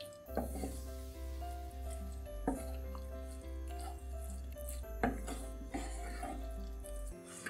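Chicken being stirred and mixed in a pan, with scraping and clinking of a utensil against the pan over a steady low kitchen hum, moderately quiet.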